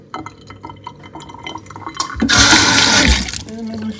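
A toilet flushes with a sudden loud rush of water that swells for about a second and then drains away, after some quieter rustling and dripping, with no voices.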